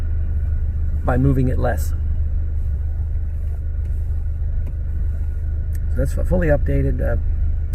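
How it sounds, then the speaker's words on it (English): A Golf R Mk 7.5 with a Stage 2 Unitronic tune cruising, heard from inside the cabin as a constant deep engine and road rumble, while someone talks over it in two short bursts. "And also my Golf R, which I'm driving right now"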